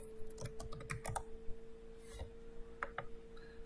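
Someone types on a computer keyboard, a quick run of close, light key clicks that bunch into bursts with short pauses, while software fonts are being set up for personalizing stuffed animals with a Cricut.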